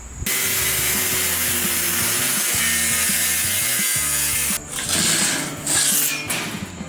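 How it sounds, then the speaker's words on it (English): A brand-new power saw, apparently faulty, runs continuously with a loud rough buzzing, rattling drone, then falters and surges unevenly near the end, with no talking. "I think my brand new saw, this is legit the first time I've ever used this, is broken."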